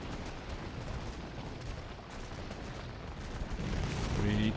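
Muskets and artillery fire across a Napoleonic Waterloo battlefield in a strategy video game as British cavalry charges, a dense continuous rumble of distant gunfire and cannon blasts with a faint tonal cue near the end.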